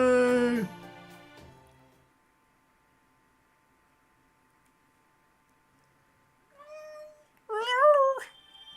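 A cat meows twice, a short call at the start and then a pair of rising, wavering meows after a long quiet stretch.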